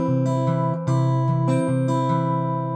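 Acoustic guitar fingerpicking pattern, thumb alternating on strings 5 and 4 while fingers pluck strings 1 and 2, giving a steady, even run of ringing notes played alone and close.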